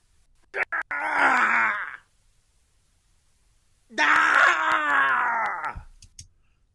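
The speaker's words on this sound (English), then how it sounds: "he gave me two different screams" Two long, strained screams from a man, each lasting over a second and separated by silence, loud and close with a rough, groaning edge.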